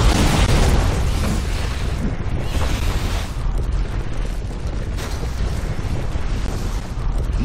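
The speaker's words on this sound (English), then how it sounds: "Prepare for the cannon!" Cannon fire in the Marvel Heroes video game makes a continuous, loud, booming roar of overlapping explosions that rumbles steadily throughout without pause.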